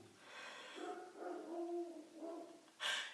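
A dog nearby gives a string of soft whimpers and whiny yips, rising and falling, then ends with one sharp, loud bark.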